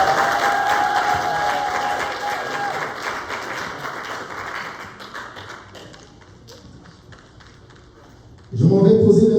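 A wedding congregation in a church breaks into sustained applause with a few cheers. The clapping is loud at first, then thins out before a voice cuts in at the end.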